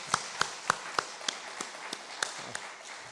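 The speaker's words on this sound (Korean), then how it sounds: "우리 다시 한번 우리 박수로 감사드리겠습니다" At an afternoon church service seminar, a congregation offers thanks with about ten quiet, scattered handclaps. They are spaced irregularly over a few seconds and sound faint and somewhat distant.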